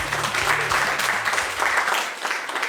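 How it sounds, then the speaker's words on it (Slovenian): An audience claps and cheers for comedian Bushi at a roast battle comedy show, dense applause running throughout with crowd noise and a low hum underneath. "Dajte en aplavz za Bušija"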